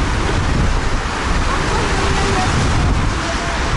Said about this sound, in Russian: Очень сильный ветер дует.